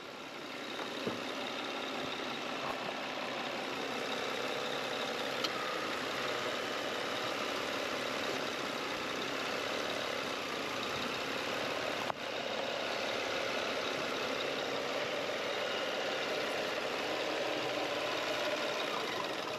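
A Lexus ES330 engine idles roughly and unevenly as though about to stall, a continuous low rumble with faint knocking, heard close under the hood with no talking.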